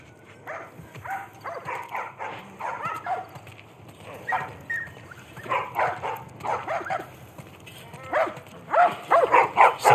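Dogs in The Last of Us Part 1 video game making a run of rough barks and yips, repeated in uneven bursts that grow louder toward the end.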